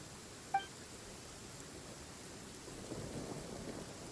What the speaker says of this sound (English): too bad it's raining and thunderstorming